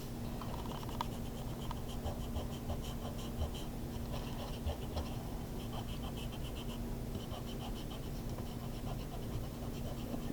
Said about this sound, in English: you can come in with your eraser and erase out any pencil lines so you don't see them